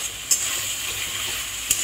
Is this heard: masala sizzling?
yes